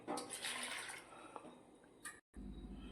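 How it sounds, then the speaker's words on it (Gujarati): Amaranth leaves are swished and rinsed in a bowl of water, giving close splashing and dripping sounds that taper off, a brief silence, then a louder low rush of water. "જો આ રીતે આપણે તાદરજાની ભાજીને ધોઈ લેવાની."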